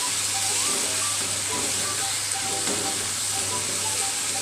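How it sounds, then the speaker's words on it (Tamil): Tomatoes sautéing in a pan for mint chutney give a steady, close sizzle and hiss of frying that runs unbroken from start to finish, with a low hum underneath. "தக்காளி நல்லா வதங்கிடுச்சு."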